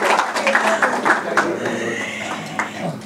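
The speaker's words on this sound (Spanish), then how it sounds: "Un aplauso." An audience at a lecture on Cuban culture in Miami breaks into brief, scattered applause mixed with murmuring voices, a short patter of claps that fades within a few seconds.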